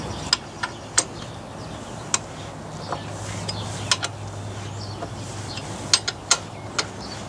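Screws being tightened on the back of a part: a ratcheting tool gives scattered sharp clicks and ticks over a low steady hum, close by and fairly quiet.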